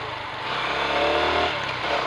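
A Beker B2 CR3 125cc motorcycle engine runs during a test ride, a steady droning hum that rises slightly in pitch and intensity midway, then eases back, heard up close with no speech.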